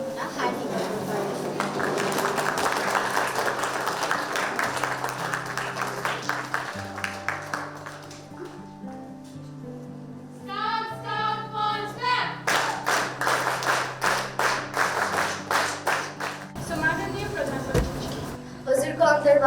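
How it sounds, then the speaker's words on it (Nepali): An audience rises for a standing ovation to the Prime Minister at a scout gathering, with a burst of hand clapping building over music and voices. "सबै सहभागीहरूमा प्रधानमन्त्रीज्यूलाई उभिएर जोरदार तालीका साथ सम्मान"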